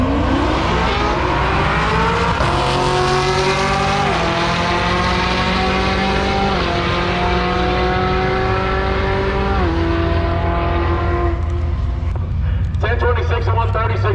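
Drag race launch between a 2017 Camaro and a right-hand-drive 1995 Nissan at an NMCA musclecar event: loud engines roar and rise through stacked gear changes over a steady crowd and track din, with announcer-style talk running underneath.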